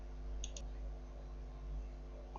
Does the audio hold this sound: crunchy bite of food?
no